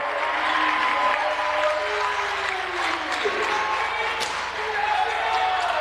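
A gym crowd at a boys varsity high school basketball game against Longmeadow roars and cheers steadily, loud and continuous, with an announcer speaking over it.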